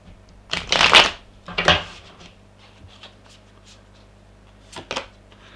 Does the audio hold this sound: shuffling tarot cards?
yes